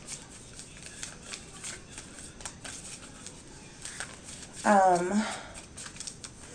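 Soft, crisp riffling and flicking of cards being shuffled, quiet and close, with a brief louder burst of another sound near the end.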